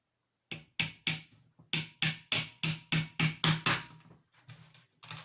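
A steady series of sharp hammer blows drives nails into a hanging kitchen cabinet, about a dozen evenly spaced hits close by, then a few lighter taps after a short pause.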